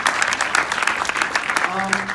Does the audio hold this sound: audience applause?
yes